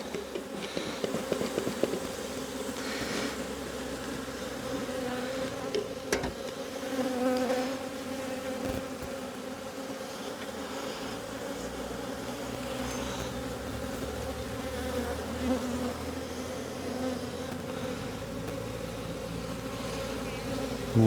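Honey bees buzzing steadily around an opened hive during an inspection, a dense continuous drone close by, with no talking.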